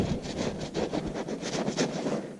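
Black ink is rubbed by hand into the crevices of a decorative gourd bowl, making a continuous close scrubbing and brushing sound with a quick back-and-forth rhythm.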